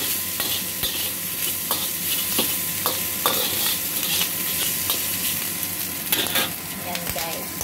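Pig ears frying in a pan for a Filipino home-cooked recipe, giving a steady close sizzle and crackle with scattered clinks and scrapes of stirring throughout, no voices.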